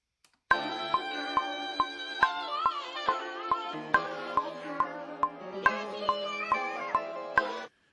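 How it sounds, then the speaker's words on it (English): The same vocal sample shifted up eleven semitones into a high chipmunk-like voice, looping over evenly spaced sharp clicks with sustained melodic tones and no speech. "to get that chipmunk sound"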